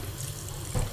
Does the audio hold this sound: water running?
yes